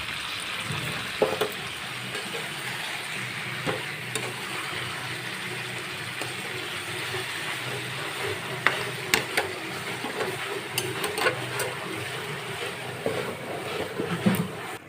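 Mutton sizzles and fries steadily in a pan after whisked yogurt and a little water go in, a continuous close crackling hiss with occasional sharper pops and faint clatter, no talking.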